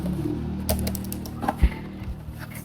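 Keys are typed on an Axioo Pongo 725 laptop keyboard, a few sparse, soft clicks and taps close by, one sharper thump near the end, over a low background hum.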